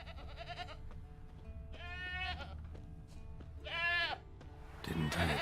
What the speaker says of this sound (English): That's the goat there, isn't it?